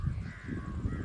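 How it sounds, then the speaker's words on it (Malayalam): Crows cawing outdoors on a nature walk, a steady low wash of calls and ambient noise with no talk over it. "കാക്കകളല്ലേ?"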